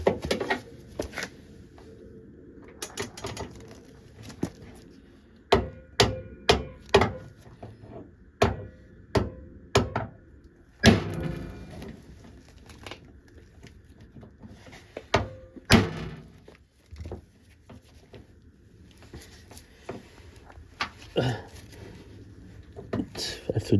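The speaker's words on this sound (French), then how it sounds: "Je vais me mettre debout pour frapper plus fort." A hammer strikes a screw head again and again on an Austin Mini, sharp metallic blows landing irregularly, alone or in quick bursts, close and loud, with people talking between strikes.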